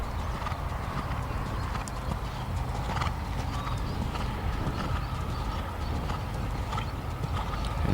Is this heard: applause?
no